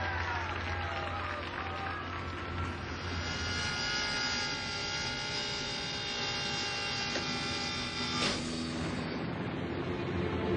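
A cargo jet airplane carrying an orca takes off before dawn, its engines roaring steadily, a loud continuous whine and rumble with a brief rising surge near the end.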